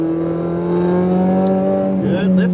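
A Ferrari 488 Pista accelerates hard on a racetrack, its engine note climbing in steady harmonic tones with a sharper rise toward the end; an instructor's voice talks over the loud, close engine.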